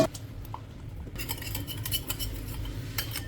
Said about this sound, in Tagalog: Mix lang natin ng toyo, oyster sauce, brown sugar, sesame oil.